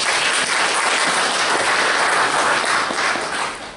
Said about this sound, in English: let's give her a round of applause to welcome us